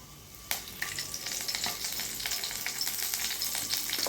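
A sudden sizzle as cinnamon, cloves and curry leaves hit hot oil, settling into steady crackling and spitting that continues up close.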